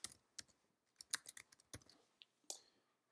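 Quiet, close keystrokes on a computer keyboard as data is typed in, coming as irregular clusters of sharp clicks with short pauses between them.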